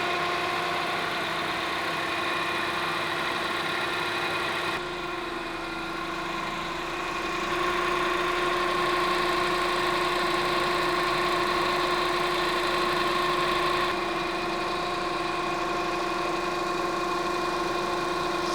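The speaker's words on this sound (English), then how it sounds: "A little look at my engine real quick." A Honda Accord engine idles steadily with the air conditioning running, a constant hum with tonal whine and faint vibration, close by and without speech.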